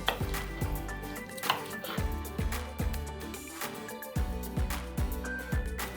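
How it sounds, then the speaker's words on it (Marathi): A knife roughly chops four green chillies on a board, giving a steady run of sharp, close thuds about every half second, with light clinks of kitchenware between strokes. "आता आपण चार मिरच्या घेतल्या आहेत त्या रफली कापून घेऊया"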